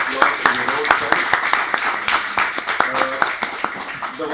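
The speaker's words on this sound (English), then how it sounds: "A cheers, a round of applause to the roadside." An audience at a national workshop applauding the participants, many individual hand claps sounding crisp and distinct in an uneven rhythm, with voices talking over the clapping.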